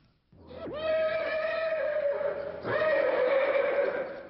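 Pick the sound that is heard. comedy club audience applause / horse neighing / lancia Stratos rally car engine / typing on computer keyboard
horse neighing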